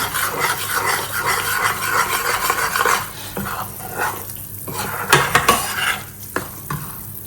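Spice mix for Gujarati adadiya being slowly stirred in a pan over low gas, giving a soft continuous scraping and rubbing, then sharper spoon knocks and clinks against the pan near the end.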